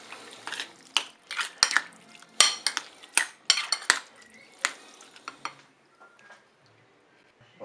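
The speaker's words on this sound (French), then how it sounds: "je vais ajouter tout simplement la sauce moutarde que j'avais préparée. On mélange avec nos poireaux" Leeks being mixed with mustard sauce in a dish, close sharp clinks and scrapes of a utensil against the dish in an irregular burst, then tapering to quieter stirring.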